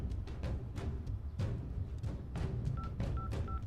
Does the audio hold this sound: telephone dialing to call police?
yes